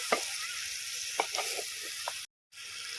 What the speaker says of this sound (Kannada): ಗುದ್ದಿಟ್ಟ ತೊಂಡೆಕಾಯನ್ನು ಹಾಕಿ ಒಂದು ನಿಮಿಷ ಮಿಕ್ಸ್ ಮಾಡುವ